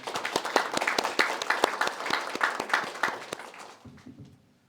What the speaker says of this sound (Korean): 나오실 때 큰 박수로 맞이해 주시기 바랍니다